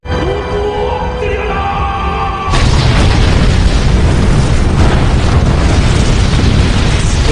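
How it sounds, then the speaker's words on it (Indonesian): Massive cannon blast in a naval battle: a sustained, loud broadband roar that erupts abruptly and stays dense and rumbling to the end, with no talk. "Dengan ledakan yang begitu dahsyat"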